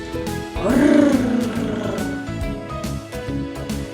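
A voice growls out a long, rough roar imitating an angry bear, swelling loud and then trailing off into a low rumble.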